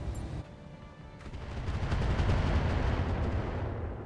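Heavy mech weapons firing at a Fafnir in RogueTech, a dense sustained barrage of booming shots and rumbling impacts that swells and holds loud without speech.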